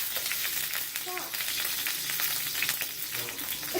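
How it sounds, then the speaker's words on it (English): Hot oil in a pan of frying fish sizzles loudly and constantly up close, with sharp pops and spatters scattered through it and a brief faint voice. "I turned the heat down, but it's still popping hot oil everywhere"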